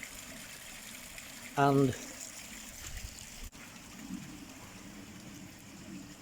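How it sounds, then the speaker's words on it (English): Water gushes steadily from both outlets of a DIY sieve filter on the top tier of a Bakki shower, returning to a pond with the pump at 70%, as a continuous near rush under a brief spoken word. "the water's gushing out at that rate from both outlets"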